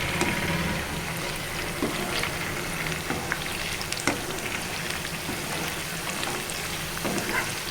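Chicken pakodi bubbles and crackles in hot oil, a dense, even frying hiss that stays steady throughout with faint stirring, no speech.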